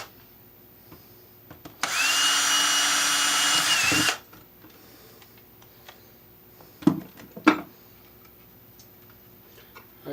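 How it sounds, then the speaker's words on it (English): A power drill whirs loudly for about two seconds, drilling holes in the back of an electrical box, then stops; a few sharp knocks and clicks follow in an otherwise quiet room. "we're going to drill a couple holes in our back of our box here."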